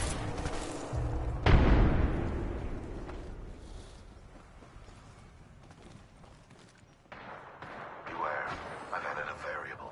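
A frag grenade goes off in an Apex Legends firefight, one loud heavy boom with a long decaying rumble, followed by busy gunfire and game effects while players talk over it.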